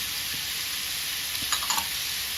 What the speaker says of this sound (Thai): แล้วก็ผัด